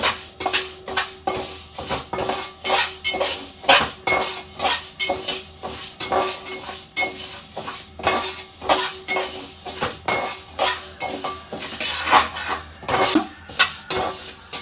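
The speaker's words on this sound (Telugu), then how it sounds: "మెంతులు కొంచెం లైట్గా వేసుకుందాం." Fenugreek seeds stirred in a hot pan, with steady scraping strokes of a spoon or spatula against the metal over a soft sizzle, repeated in a loose rhythm close by.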